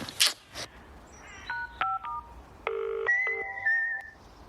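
Mobile phone call tones: a string of close, loud touch-tone dialing beeps at irregular spacing, followed by longer steady call tones signalling a busy number, with no speech.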